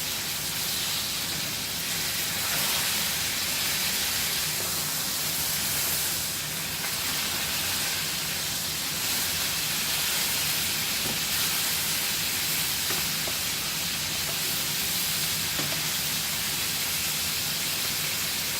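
Filet mignon steaks sizzling in a hot pan just after flipping: a loud, continuous hissing fry that runs steadily throughout with no pauses and no talk.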